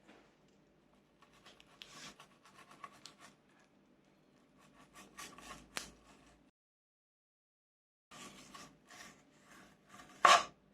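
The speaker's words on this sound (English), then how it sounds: "And now I'll pass my knife in between the skins and the meat" A knife slides between the skin and flesh of a seabass fillet, making close, dry rasping scrapes in short bursts separated by pauses, ending with one sharper scrape.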